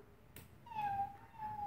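A young girl imitates a cat with a single drawn-out, rising then level meow, close and fairly quiet after a short click.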